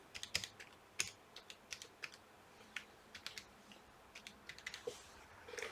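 Keys on a computer keyboard tapped while a Wi-Fi password is typed in, a quiet irregular run of close, crisp clicks with short pauses, no talking.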